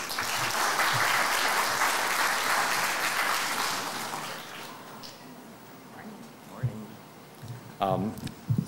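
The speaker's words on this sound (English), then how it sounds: "A round of applause, please, for Mr. Philip Cu-Unjieng." Audience applause at a sustainability forum, loud and sustained for about four seconds before thinning out, with scattered claps, faint murmurs and a short voice at the end.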